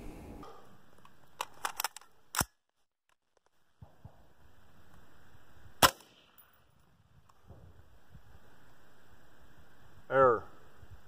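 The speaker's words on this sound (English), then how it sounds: "we're going to fire M193 from an 18-inch barrel at about 20 feet" An M193 5.56 FMJ rifle round fired from an 18-inch barrel at about 20 feet into a CATI Level III+ steel armor plate: sharp, isolated cracks with a metallic clang, spaced seconds apart, followed later by a brief warbling chirp.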